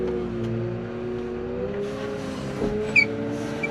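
Loader engine held at half revs, around 1200 rpm, a steady, even drone with clear harmonic hum that holds constant, a short clunk near the end.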